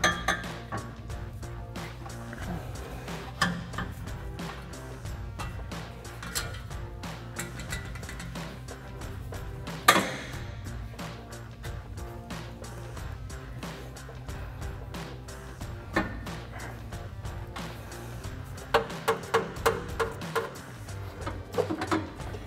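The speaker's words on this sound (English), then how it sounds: "we'll grab another clamp to slide onto our muffler outlet" Metal exhaust clamp and pipes being fitted onto the muffler outlet of a Toyota 4Runner MBRP Armor Lite cat-back system, with scattered sharp metallic clinks and taps, a few louder knocks near the middle and end, close by.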